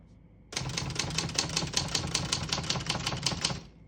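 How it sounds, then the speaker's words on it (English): Rapid typing on a 1952 Olivetti Studio 44 portable typewriter: a steady run of crisp, close mechanical key strikes and clacks. It starts abruptly after a brief quiet moment and continues evenly for about three seconds. "We're going to keep it on single for now and finish typing."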